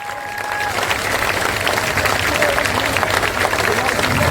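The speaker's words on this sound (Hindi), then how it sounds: "जोर से ताली बजाइए।" Crowd applauding at a political gathering, dense sustained clapping that swells in the first second and then stays loud and even to the end.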